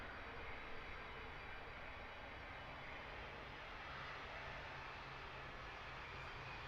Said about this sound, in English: Lufty A320 in the 100th anniversary livery, heading over the top off to Dublin